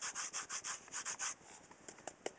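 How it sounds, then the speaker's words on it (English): Glitter being rubbed by hand into a strip of washi-style tape, a run of soft rhythmic scratchy rubs close up, easing into lighter scattered brushing and small taps toward the end. "And then you can kind of rub it in to make sure it gets absorbed."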